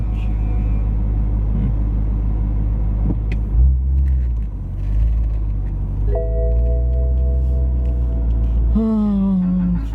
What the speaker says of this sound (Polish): Jak ładnie brzmi ten silnik z otwartym bagażnikiem.